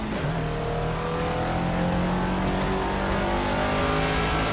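A race car engine in Project Cars revs loud and steady on a PS4, holding a sustained buzzing drone with shifting pitch and no voices.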